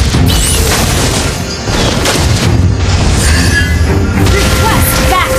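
A turret collapses in a loud, booming explosion in the mobile battle-arena game Mobile Legends, with dense crashing impacts and rumbling debris continuing over busy battle effects.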